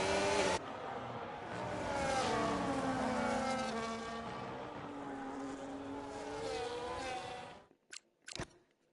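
F1 cars roaring around the Mexico circuit in the racing game F1 25, a continuous loud engine whine with rising and falling pitch sweeps as gears shift, cutting off abruptly near the end before two short bursts.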